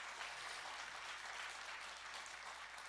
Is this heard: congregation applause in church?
yes